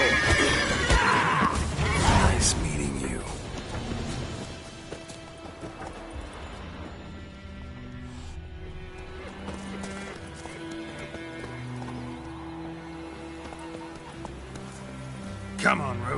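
Roach, a horse in The Witcher 3: Wild Hunt, whinnies loudly early on, then gallops in a fast steady hoof rhythm over music, with voices speaking.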